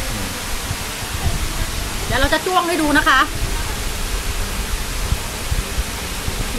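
Steady rushing of the Sam Morakot waterfall heard from a cafe terrace: a constant broad roar that runs the whole time, with a voice speaking briefly over it near the middle.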